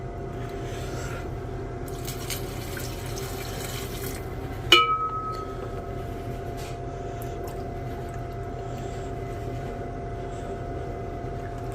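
Distilled water is poured into a glass beaker as a quiet, faint trickle, with one brief glassy clink partway through, in an otherwise calm room.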